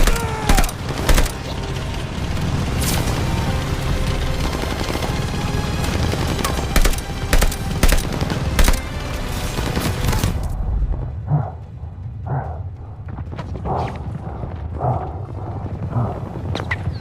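Dense machine gun fire in the Call of Duty Vanguard campaign mission Operation Tonga, loud continuous rattling bursts for about ten seconds, then thinner scattered shots and distant clatter.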